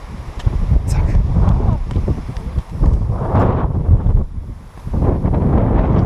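Strong wind buffets the microphone on a mountain hike, a loud, roaring rumble in gusts that briefly dip and swell again, close and dominant.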